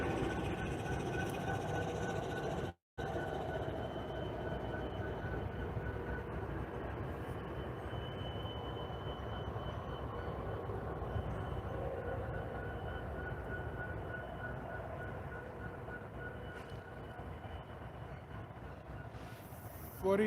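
A Norfolk Southern freight train rolls past near an airport, making a steady, continuous rumble and clatter of railcars that lasts throughout, with a brief dropout partway.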